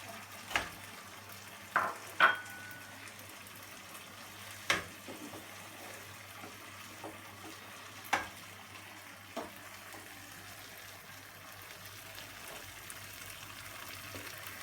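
Melting cheese stirred in a pan for Turkish mıhlama, a soft low sizzle underneath several sharp scraping and clinking strokes of a utensil against the pan, spaced a few seconds apart.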